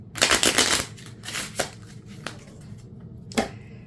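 A deck of playing cards is shuffled up close, with a quick burst of riffling followed by a few softer flicks and taps as the cards settle, with no talking.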